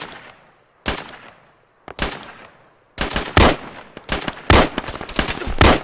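Arma 3 gunfire comes in sharp, loud bursts. Isolated shots with echoing tails give way to rapid automatic volleys and overlapping reports toward the end.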